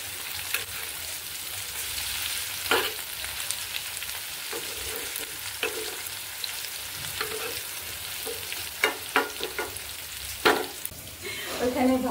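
Chicken pakora pieces frying in hot oil, a continuous close sizzle broken by sharp clinks and scrapes of a utensil as the pieces are stirred and turned, with no talk.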